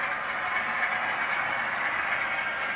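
A model train runs along its track under software control with a steady, even mechanical whir and hiss, close and unbroken, with no voices.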